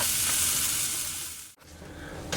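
Minced jarred garlic stirred into sautéed onions in a hot pan, giving a steady loud sizzle with a brief break partway through, no talking.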